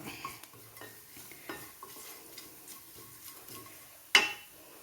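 A mixture being roasted and stirred in a heavy griddle-like pan, with soft scraping strokes, a faint sizzle and one sharp metallic knock near the end.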